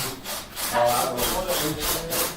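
A dull drill grinds into wood with a rough, rasping scrape that swells and fades in a steady rhythm of about two strokes per second, close and fairly loud, with no voices over it.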